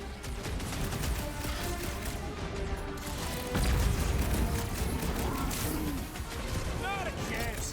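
Continuous gunfire and clattering combat in the video game Marvel's Guardians of the Galaxy, a dense, steady barrage at moderate loudness with a heavier impact midway, mixed with character voices talking.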